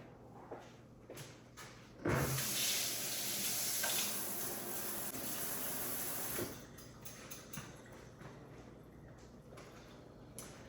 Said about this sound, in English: I am gonna worry about rinsing these off because I don't want all that mixed in there